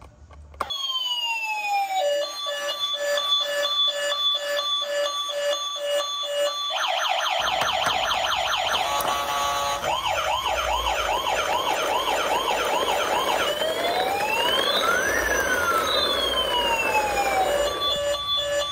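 A toy ambulance cycles through electronic siren patterns, first wailing sweeps and steady tones, then rapid warbling yelps and rising-falling wails, loud, close and continuous with no talk.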